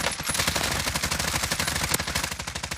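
Sustained automatic gunfire from a Call of Duty Warzone Pacific match, a rapid, steady stream of shots lasting throughout with no talk over it.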